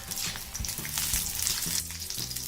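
Garlic and ginger sizzling in half a spoon of hot oil on a heated pan, a steady close crackling hiss with faint clinks and stirring scrapes throughout.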